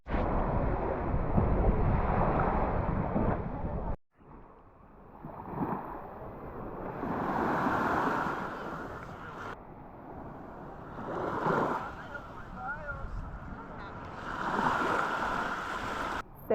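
Steady wind buffets the microphone over rolling surf at Trunk Bay Beach on St. John in the US Virgin Islands, a broad continuous rush that swells and dips with passing gusts and waves.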